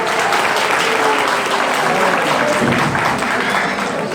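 Dense audience applause fills a hall event as a guest speaker from a community association is welcomed to the stage, sustained and loud throughout with a faint voice beneath the clapping.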